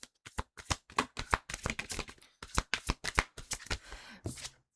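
Oracle cards from a psychic tarot deck being shuffled by hand: rapid, continuous riffling slaps in quick bursts with brief pauses, close and crisp, no talking.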